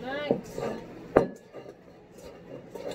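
A spoon scrapes and knocks against a mixing bowl while stirring brown sugar blondie batter with butterscotch chips, giving two sharp clinks among softer scraping, with light voices nearby.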